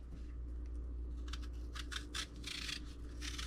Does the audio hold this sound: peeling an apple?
yes